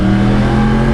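A modified Yamaha R1-M motorcycle engine revs loudly and close, a steady high-pitched buzzing drone with a strong, continuous tone and no pauses.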